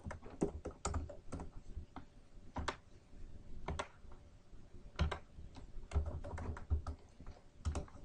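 Keys clatter on a computer keyboard as a switch configuration command is typed, irregular clusters of close, crisp clicks with short pauses between bursts and no voice.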